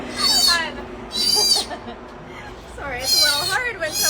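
An owl patient at a rescue centre gives loud, wavering hoots in three bursts, close by, with a quieter stretch between them.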